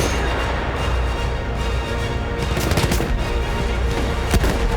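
Battlefield 1 video game gunfire, dense and continuous, with sharp shots and bursts cracking over a heavy rumbling battlefield din throughout.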